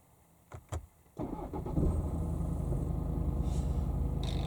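A BMW F30 3 Series started by its keyless start button: a couple of soft clicks, then the starter cranks and the engine catches into a steady, close, even idle.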